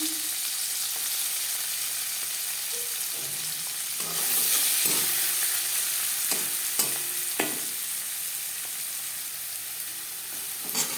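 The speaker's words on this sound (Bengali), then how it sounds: "2 চামচ সরষের তেল গরম করে নিয়েছি।" Chopped onion frying in hot mustard oil makes a steady, close hiss and crackle that swells as it is stirred, with a few light utensil knocks against the pan.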